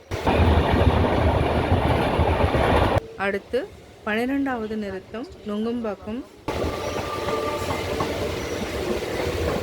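A Chennai suburban train running between stations, loud rumbling carriage noise, then a station announcement, then the steady rolling noise resumes.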